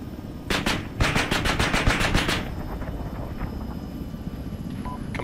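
Gunship cannon fire in the Arma 3 military game: a rapid string of about a dozen heavy, close shots in two bursts, then a fading rumble and faint aircraft drone with no talk.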